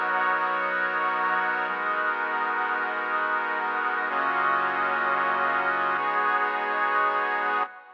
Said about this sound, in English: I'm using Selena with this 70s lead preset